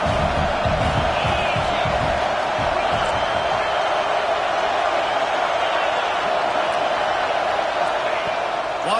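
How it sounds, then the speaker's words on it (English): Stadium crowd at a football game, a steady loud wash of cheering and noise sustained throughout, with an announcer's voice layered over it. "This crowd knows when to bring it."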